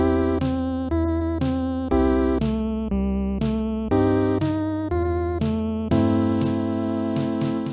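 Bouncy, upbeat music from a 2018 song, with punchy repeated chords and a steady driving rhythm, played loud and full with no singing evident.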